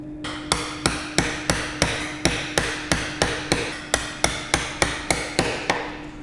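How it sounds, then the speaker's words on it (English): A mallet strikes a wide chisel over and over to clear the waste from a hand-cut wooden bridle joint, about fifteen sharp, evenly spaced knocks close up, with no talking. "we're just going to get the widest chisel we can find that's going to fit in there and then just work through halfway from each side"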